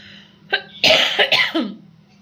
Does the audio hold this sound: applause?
no